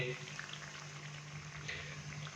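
Bread slices fry in oil over a medium flame for shahi tukray, giving a steady, close sizzle and bubbling hiss that continues without pause.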